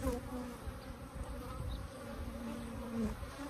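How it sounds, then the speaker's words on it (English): Africanized honey bees buzz around a hive in a painter's box that is about to swarm, a dense, steady hum that is fairly faint and continuous, with no talk. "This hive is about to swarm."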